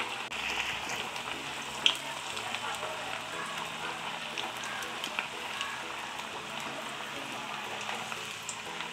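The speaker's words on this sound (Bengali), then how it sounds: "তেলটা প্রথমে ভালো করে গরম করে তারপরে গ্যাসটা মিডিয়ামে করে দিলে ভাজাটা মচমচে হবে আর ভেতরটাও কাঁচা থাকবে না" Rice pakoras made from leftover rice fry in hot white oil over a medium gas flame, producing a soft, continuous bubbling sizzle with occasional small pops, fairly quiet and close.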